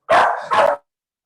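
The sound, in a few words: small female dog barking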